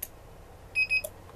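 An RFID keypad access control unit wired as an alarm key switch gives a quick pair of high, clear electronic beeps as it arms, close and alone in a quiet room.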